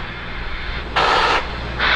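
A SpaceX Falcon 9 rocket's valves vent at Cape Canaveral before launch, with a sharp burst of hiss that lasts about half a second and starts again near the end over a steady low hum.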